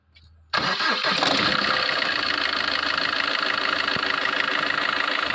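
A Maruti Suzuki Ciaz Hybrid with a faulty stop-start system and unusual heavy starting noise cranks and catches abruptly, then settles into a loud, steady idle with a rough, knocking edge.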